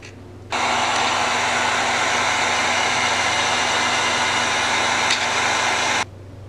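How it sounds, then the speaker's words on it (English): A heat gun blows steadily while drying paint on a 3D printed prop, a loud constant whooshing hiss with a faint hum that switches on abruptly, holds evenly for several seconds, then cuts off. "let this dry, hit it with the heat gun"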